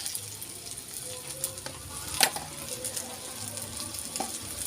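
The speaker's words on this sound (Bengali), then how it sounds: "আলু বেগুনটা আমার এখানে ভালো করে ভাজা হয়ে গেছে" Potato and eggplant frying in a pan give a steady close sizzle with light crackles and a few stirring scrapes and knocks, and no one speaks.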